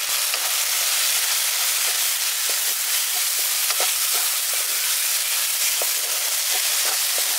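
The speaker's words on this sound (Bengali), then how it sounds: "গুঁড়ো মশলাগুলো এবার ভালো করে কষিয়ে নিচ্ছি" Ground cumin and coriander spices fry in oil for a village-style carp fish curry, a bright constant hiss dotted with quick popping crackles and stirring clicks, near and loud.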